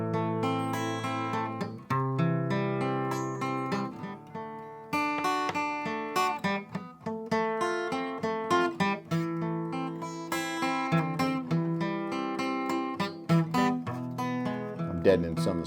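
An acoustic guitar plays steadily, each chord picked one string at a time in a flowing arpeggio. Clear and close, with no voices.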